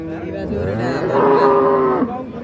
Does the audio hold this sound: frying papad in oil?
no